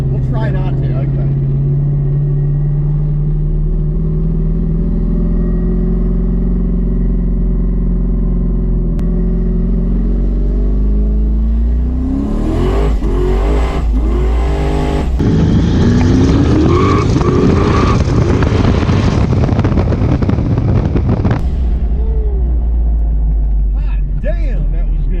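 A 1200 horsepower Camaro engine idles with a deep, steady rumble, then revs hard and accelerates into a loud, sustained roar for several seconds before settling back to idle, with voices heard at times.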